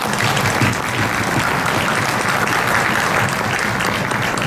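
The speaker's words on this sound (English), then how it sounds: "Let's give them a round of applause." Dense, steady applause from a concert audience for a school jazz band, a continuous wash of many hands clapping at close range and full volume.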